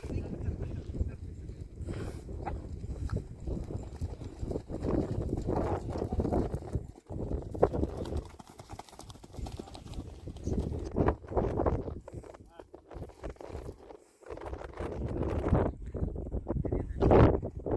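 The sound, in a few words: horses' hooves clip-clopping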